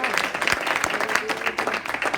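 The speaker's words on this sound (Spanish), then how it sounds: "Demos otro aplauso al Señor" Congregation in a church service applauding, a dense wash of steady clapping with a few sharper claps standing out, fairly close and continuous for a couple of seconds.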